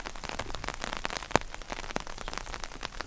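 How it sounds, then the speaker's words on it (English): Rain falls in a town among mountains, a dense close patter of drops striking surfaces with a few louder individual hits standing out over the steady wash. "The only thing is all this rain"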